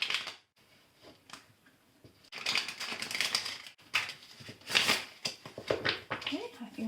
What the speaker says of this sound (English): So let's give the cards a couple of shuffles, shall we?